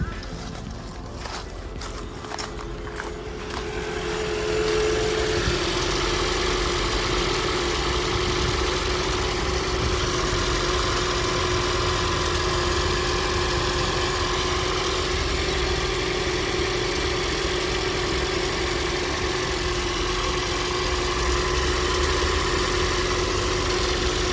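A Toyota C-HR Hybrid engine starts after a few faint clicks and rustles, then settles into a steady, even idle that runs loud and close for the rest of the time.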